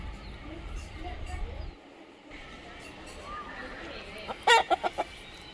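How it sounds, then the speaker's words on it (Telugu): Chickens on a poultry farm cluck amid a murmur of background noise, ending in a quick run of four or five sharp, close clucks. "ఇవన్నీ కూడా మన కోళ్ళు"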